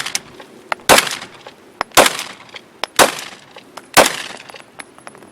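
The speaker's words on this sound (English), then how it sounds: "the Glock 23 with a 9mm conversion barrel, obviously without suppressor" An unsuppressed Glock 23 pistol with a 9mm conversion barrel fires four loud, sharp shots about a second apart outdoors, each crack trailing off in a brief echo.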